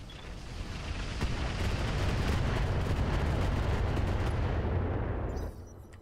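Mech weapons unleash a dense barrage in the video game Roguetech, a sustained roar of booming shots and rumbling blasts that swells and cuts off sharply after about five seconds, with no talk.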